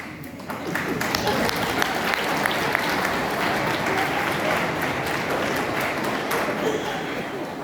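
An audience at a university Gita Jayanti lecture breaks into loud, sustained clapping, a thick roar of many hands that swells after a quiet start and holds steady, with faint voices beneath.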